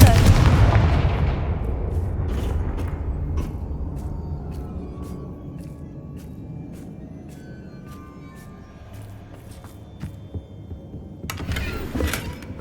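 A heavy blast opens, then rumbles away, with scattered sharp cracks and a denser burst near the end, as Confringo fire spells explode in the Hogwarts Legacy video game.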